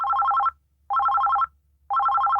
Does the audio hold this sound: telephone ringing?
yes